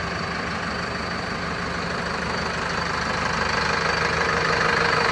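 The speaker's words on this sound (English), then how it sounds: "2005 Freightliner diesel" A 2005 Freightliner diesel step van idles in a steady, close, even rumble with a faint knocking rhythm throughout, and no one speaks.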